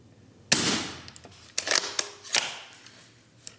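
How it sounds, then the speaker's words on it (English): A suppressed .308 AR-10 with a 12.5-inch barrel fires subsonic rounds at steel targets at night, giving a sharp first report and then a few quick cracks and ringing metallic hits. The shots are spaced unevenly, with quiet gaps between them. "I get that it's pretty stupid shooting subs, but through an AR-10"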